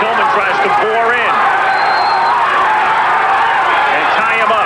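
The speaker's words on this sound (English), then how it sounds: "Crowd chanting Holyfield as Tillman tries to bore in" A loud arena crowd at a boxing match between Evander Holyfield and Henry Tillman, chanting and roaring continuously with rhythmic rising voices, dense and close, with a commentator talking over it.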